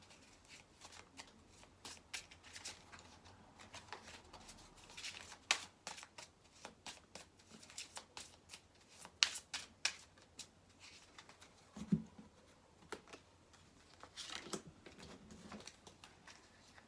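A deck of tarot cards is shuffled in quick bursts of crisp riffles and flicks, close and fairly quiet, with brief pauses between runs.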